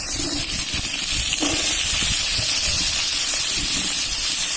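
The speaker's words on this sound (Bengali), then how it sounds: "এবার কুমড়ো বেগুন আর মটরশুঁটি ভেজে নেবো" Pumpkin, eggplant and peas frying in hot oil in a home kitchen, giving a steady, fairly loud hiss and sizzle with occasional crackles throughout, no voices.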